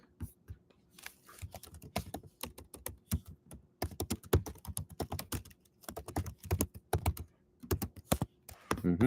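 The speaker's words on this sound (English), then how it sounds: "I'm just going to type this stuff in as it is." React code being typed on a computer keyboard, with a close, steady stream of rapid key clacks in uneven bursts and brief pauses.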